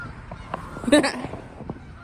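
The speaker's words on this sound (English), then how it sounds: "Geese." A burst of goose honking rises briefly over a noisy outdoor background, a few calls overlapping near the middle before fading.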